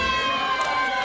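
Wedding guests in a room let out a loud, dense cheer, a brief burst of many voices shouting together at steady volume.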